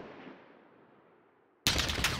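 Call of Duty gunfire opens as a fading boom, then after a brief lull a loud, sudden burst of rapid automatic shots cuts in close up.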